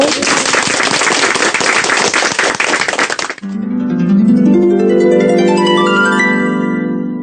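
A church congregation at Osan Yangil Church claps loudly and densely for about three seconds, then the clapping stops abruptly and a bright, rising musical jingle plays on its own.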